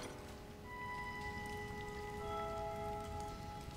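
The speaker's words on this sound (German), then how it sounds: "Es regnet in der Höhle." Rain patters softly inside a dripping cave in The Legend of Zelda: Tears of the Kingdom, a faint, even spatter of drops over quiet ambient tones and no talk.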